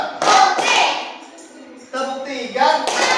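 A group of children in a classroom claps in short counted bursts, a few quick rounds of clapping separated by a brief lull, close and lively.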